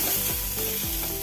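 Thin slices of ginger sizzle in hot oil in a pan while a spoon stirs them, giving a steady bright frying hiss broken by a few quick scraping sweeps across the pan.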